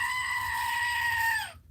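A single long, loud, strained scream from a screaming goat toy, held steady and then cut off abruptly into silence.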